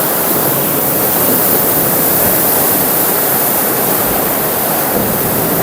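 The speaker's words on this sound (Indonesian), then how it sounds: "Ini masih ombak biasa." Ocean waves breaking on a shore, heard as a loud, steady wash of broadband surf noise that stays continuous throughout with no clear separate crashes and no voices.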